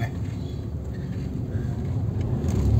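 A vehicle being driven gives a steady low engine and road rumble heard from inside, growing slightly louder toward the end.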